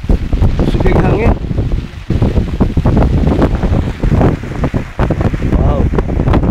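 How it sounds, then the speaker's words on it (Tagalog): Strong wind blowing in and around a greenhouse, loud buffeting gusts that roar straight into the microphone for the whole stretch, with people talking under the noise. "Sugig hangin."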